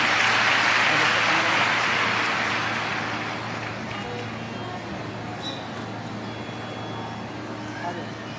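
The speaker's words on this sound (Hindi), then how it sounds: "जोरदार तालियां।" A crowd at a Shiv Mahapuran katha gathering bursts into strong applause for two children named Shiv and Shambhu; the clapping is dense and loud at first, then thins and fades over several seconds.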